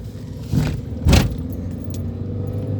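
A car climbs a steep, difficult road up the Sun Pyramid hill in Visoko, Bosnia and Herzegovina, its steady low engine and road rumble running throughout, with two brief louder swells of passing noise or wind.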